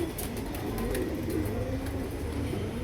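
Domestic pigeons kept for flying, released together near buildings where many feral pigeons live, give low, steady cooing that continues throughout, with no speech over it.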